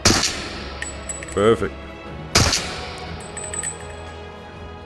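Gunshots from a first-person tactical shooter: two sharp reports about a second apart with a short metallic clatter between, then lighter clicks and clinks, all under occasional talk.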